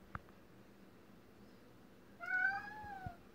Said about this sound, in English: Do you hear your kitten?